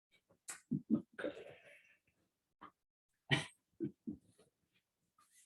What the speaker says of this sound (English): This is Christine's little dog.